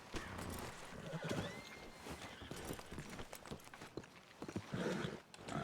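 Horses in a Western video game, with busy hoofbeats, clip-clop steps and occasional whinnies mixed into a dense, continuous layer of game noise at moderate level throughout.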